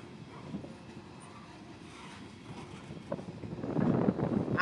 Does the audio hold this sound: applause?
no